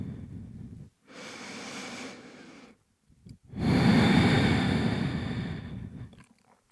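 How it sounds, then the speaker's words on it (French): Slow, deep breaths during a yoga pose in a vinyasa session: a long inhale, a pause, then a fuller, louder exhale, close and clear with no talk. "On reste pour une ou deux respirations ici."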